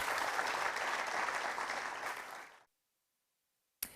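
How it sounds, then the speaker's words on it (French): Conference audience applause at a climate conference, a steady wash of clapping that fades out over about two and a half seconds into near silence, followed by a short sharp noise at the end. "Je vous invite à regagner la salle sous vos applaudissements."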